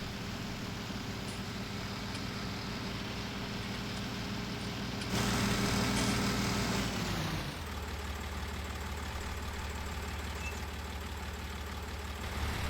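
A tractor engine in the Farming Simulator 19 video game runs steadily, swelling louder for a couple of seconds before dropping back to a lower, even drone, with no talking.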